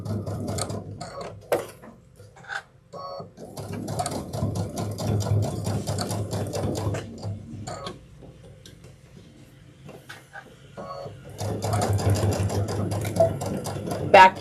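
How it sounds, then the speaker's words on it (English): A sewing machine back stitches webbing on a backpack in two runs of rapid mechanical stitching, separated by a quiet pause with a few clicks and handling sounds, close and loud. "Back stitching before I get all the way to the end, and then cutting off."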